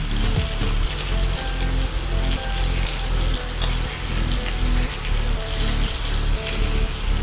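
Bacon sizzling and crackling in a hot pan for a longganisa burger makes a dense, steady hiss with popping, close and continuous, and no voices.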